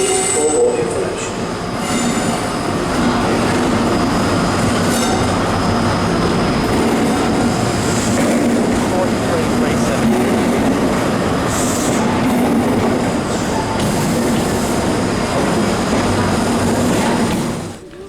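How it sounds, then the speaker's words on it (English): An HST cross-country train rolls through a Birmingham station, loud and close, with rumbling wheels, rhythmic clatter and high wheel squeal that fades slightly at the end. "It's my train to go away at 12 across country, HST."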